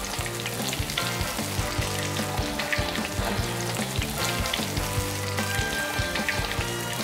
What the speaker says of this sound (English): And now it's fry time.